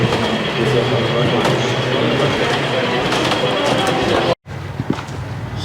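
A miniature train rumbles steadily along its track, a continuous rolling clatter with faint voices in the background, then a brief cut-out near the end.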